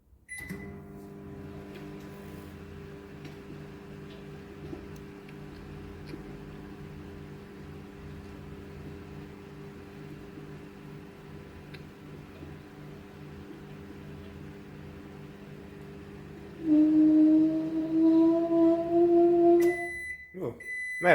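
A microwave oven hums steadily with eleven screwdrivers inside. Near the end a louder, warbling buzz breaks in, followed by a string of high completion beeps.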